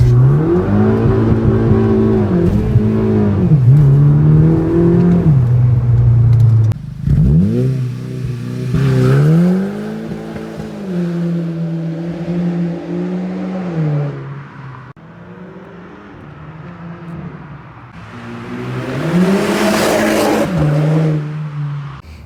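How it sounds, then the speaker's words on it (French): A stage 1 ethanol Golf 6 GTI launches from a held rev at 4000 rpm, roaring hard, gear changes dropping the pitch before it climbs again, loud and close throughout with no talking. "On va faire un petit launch control."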